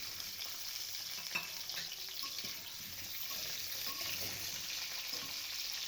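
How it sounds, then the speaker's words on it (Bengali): Potatoes frying in a wok of hot oil give a steady, close sizzling hiss for the whole stretch, with a few faint clicks of a utensil on the pan. "তেল গরম হলে তাতে আলুগুলো ছেড়ে দিলাম।"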